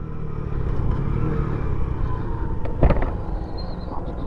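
A small Honda Pop 100 motorcycle idles and rolls to a stop at a roadside, its low engine drone steady and moderately near, with a brief clatter near the end.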